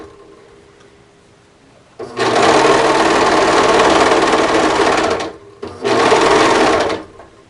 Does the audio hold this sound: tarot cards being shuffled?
no